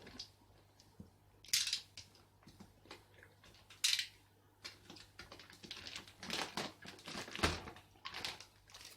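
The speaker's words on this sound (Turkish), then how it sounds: "Neyse bu poşeti keselim." A plastic bag is cut open while unpacking a shipped box of live fish, giving scattered crisp snips and crinkly rustles with a couple of louder sharp bursts, close up and without talk.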